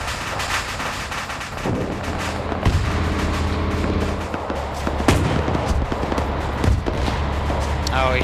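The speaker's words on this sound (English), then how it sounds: "Now the steward's firing at him." Gunshots and heavier booming fire from a World War II battle game pitting German troops against Soviets, with repeated sharp cracks and deep blasts scattered over a rumbling background while a person talks over them.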